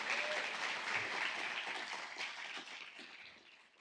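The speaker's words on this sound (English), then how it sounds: "can I hear a round of applause for yourselves," Conference audience at a useR! 2025 keynote applauding themselves, a broad sustained wave of many people clapping in a large hall, steady at first then gradually thinning and tapering off.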